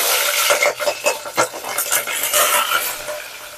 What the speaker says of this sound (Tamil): எண்ணெயில் பச்சை மிளகாய் போட்டுக்கலாம்.